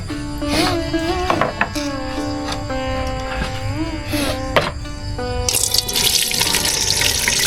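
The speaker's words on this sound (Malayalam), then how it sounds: "ആ ഇടിച്ച ഞണ്ടിലേക്ക് വെള്ളം ഒഴിച്ചിട്ട് അതിനെ മിക്സ് ചെയ്തിട്ട്" Water is poured onto crushed crab in an Isan village kitchen in Thailand and stirred, producing splashing and trickling over background music, with a louder gush near the end.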